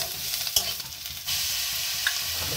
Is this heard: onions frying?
yes